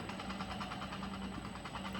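An electric motor driven by an inverter at 10 Hz, turning at roughly 558 RPM, making a faint, steady low hum with a soft pulsing vibration, continuous and without talk.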